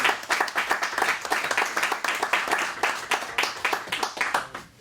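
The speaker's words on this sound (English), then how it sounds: "just ask that we give him a round of applause for his many years of service" A round of applause at a city commission meeting honors someone's years of service, with steady, dense clapping from a room of people continuing throughout at moderate loudness.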